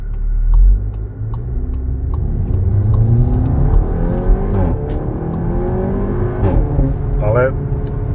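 A Cupra Ateca 2.0 TSI 300 PS Limited Edition rumbling with its exhaust flaps open, the engine droning and rising in pitch as it accelerates through a turn, heard from inside the car with people talking over it.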